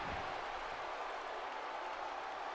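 A crowd cheers and applauds in the video game WWE 2K17 during a wrestling match, a steady wash of noise with no breaks, heard at low volume.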